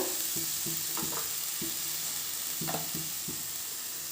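Sprouted grains are stirred in a hot frying pan, a steady sizzle broken by repeated scraping strokes of a spatula against the pan at an uneven rhythm.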